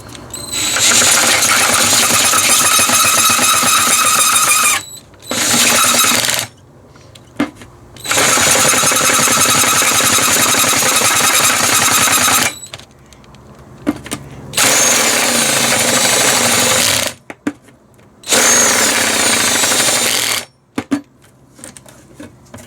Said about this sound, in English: I'm just going to use a paddle bit because that's what I used the first time